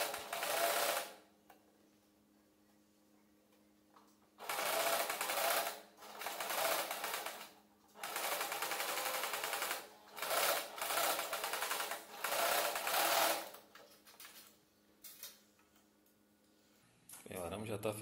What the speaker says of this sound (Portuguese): agora vamos costurar ambas as laterais